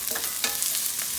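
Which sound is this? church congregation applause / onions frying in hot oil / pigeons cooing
onions frying in hot oil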